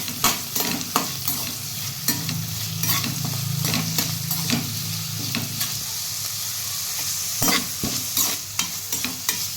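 Curry leaves and coriander leaves sauté in a pan for a chicken gravy, giving a constant loud sizzle punctuated by irregular scraping knocks of a spatula stirring.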